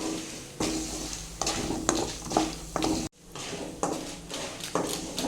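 Urad dal, coriander seeds and peanuts being fried in a pan for pickle, with a continuous crackling sizzle and frequent scraping stirs, interrupted once by a brief silent gap.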